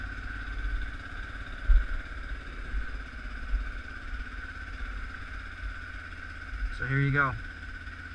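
A Kawasaki KVF 360 ATV engine idles steadily after a cold start, a low even hum, while someone speaks briefly near the end.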